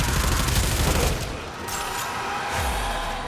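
Rapid automatic gunfire from a Warframe weapon used with Gauss, a dense, loud fusillade of fast shots with booming impacts, continuous across the whole stretch.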